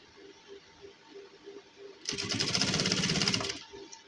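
A sewing machine runs in one steady burst for about a second and a half, stitching the edge seam of a gents suit. The motor whirs loudly against a quiet room, with no talk.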